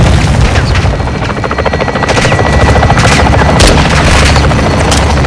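An air strike hits a building during a Call of Duty Modern Warfare 2 (2022) campaign battle: a loud, continuous roar of heavy booms and rumbling blasts, mixed with rattling gunfire and a droning aircraft-like hum throughout.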